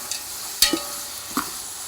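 Tomatoes, onions and green chillies sizzle softly in a pan for Andhra-style country chicken dum biryani. A couple of brief scraping stirs cut through the low, even frying hiss.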